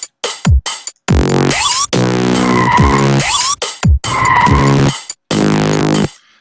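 A Serum synth burp bass recreating the bass of Timbaland's "Pony" comes in short and long notes, loud and upfront. An LFO sweeps the filter cutoff, giving a wah-like wow that rises and falls on the held notes, with gaps of silence between phrases.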